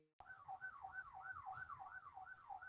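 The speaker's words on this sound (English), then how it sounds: "I just heard a siren" An emergency siren wails through a video call, a single continuous warbling tone that rises and falls in quick regular cycles, faint and slightly compressed, with no one speaking over it.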